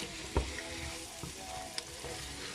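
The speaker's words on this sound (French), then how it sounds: "après les oignons, on met les tomates fraîches." Fresh tomatoes fry with onions in a pan for a Congolese fried cabbage dish, giving a soft steady sizzle with a few faint clinks and stirring taps, quiet and close, with no talk.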